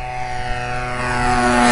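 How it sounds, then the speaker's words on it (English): A giant RC Piper Cub model airplane with a converted 47cc chainsaw engine drones loudly in flight with a high-pitched buzz, growing slightly louder as it nears, no voices. "got a converted chainsaw engine on it"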